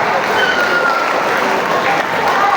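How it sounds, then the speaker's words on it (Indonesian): A loud, close wall of applause and crowd noise fills a school hall at a religious gathering at SMP Negeri 1 Ungaran, steady and unbroken throughout, with some voices mixed into the clapping. "Tepuk tangan buat keluarga besar SMP Negeri 1 Ungaran."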